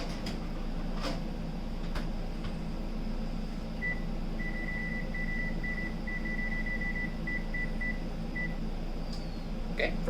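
An oven timer is set to 20 minutes, giving a series of short, high electronic beeps in quick bursts, near and clear over a steady background hum.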